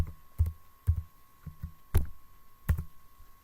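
Someone typing a command into a computer terminal, heard as a handful of sparse, separate key clicks and taps, fairly close and quiet over a faint steady hum.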